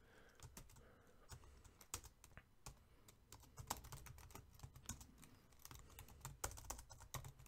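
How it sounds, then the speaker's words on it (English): Typing on a computer keyboard while writing RobotC code: quiet, irregular clicking keystrokes in short quick bursts with brief pauses, close by, with no talking. "Give me a second to type it."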